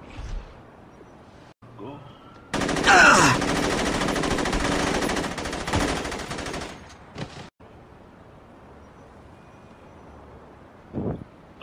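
Video game automatic gunfire in a 1v1 match, a loud sustained burst of rapid shots for several seconds followed by a few scattered shots, with wind-like noise between.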